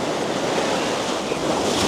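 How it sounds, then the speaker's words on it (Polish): Ocean surf breaks against a row of sandbags on a rough, windy shore, a steady close roar of churning water and wind buffeting the microphone with no gaps. "Pewnie grubo fale napierdzielają, żeby się rozbiły, żeby tam u góry ich nie zalało."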